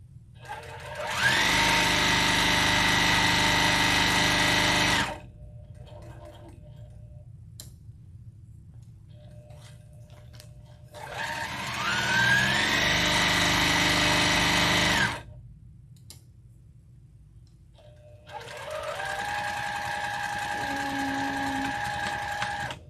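A sewing machine stitches in three steady bursts of several seconds each, running loud and close with quiet pauses between runs.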